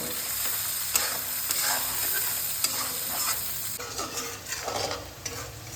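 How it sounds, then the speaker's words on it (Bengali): Chopped onions fry in hot oil for a shrimp and jackfruit dish, sizzling steadily up close while a spoon scrapes and stirs through the pan in irregular strokes, with no one talking. "এই পেঁয়াজ কুচিটা এর মধ্যে দিয়ে দিচ্ছি পেঁয়াজটা লাল লাল করে ভেজে নেব"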